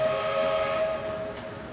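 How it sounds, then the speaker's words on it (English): A steam train whistle sounds one long, steady tone at Charing Cross Station, loud and sustained with a faint hiss behind it, fading slightly at the end. "Hamilton leaves here on the 5 p.m. train from Charing Cross Station"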